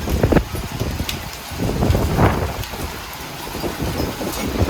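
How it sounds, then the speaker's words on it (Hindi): Hailstones clatter down amid a heavy storm in Delhi, a loud continuous rush of falling ice and rain with scattered sharp knocks and gusty swells, no voices present. "ओले पड़ रहे हैं।"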